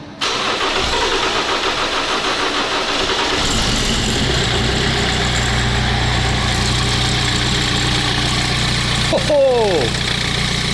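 A BMW 320d E46 diesel with a freshly timed VP44 injection pump cranks and catches, then settles into a steady rough clattering idle. A man gives a short excited shout partway through.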